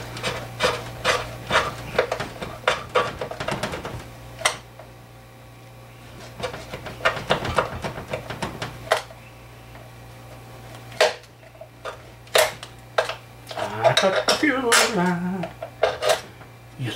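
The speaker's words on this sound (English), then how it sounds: "Little Victorinox action. Cut that fuel line" A Victorinox knife cuts through the fuel line of an outboard motor, a series of close rubbing, rasping strokes and sharp scrapes in bursts over a faint steady hum.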